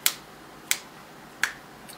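Three crisp finger snaps, evenly spaced about a second apart, close and clear against a quiet background.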